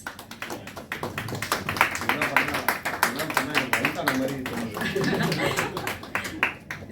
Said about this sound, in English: Ladies and gentlemen, can you please give a warm applause?